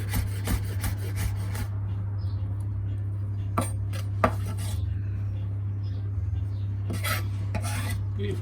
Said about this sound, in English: I'm just really kind of squishing these in a little pile, chopping them both ways